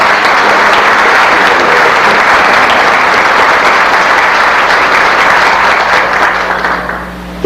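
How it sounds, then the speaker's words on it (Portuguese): Audience at a spiritist lecture in Itapetininga breaking into loud, dense applause from many hands, sustained evenly for several seconds before tapering off at the end. "Essa merece uma salva de palmas"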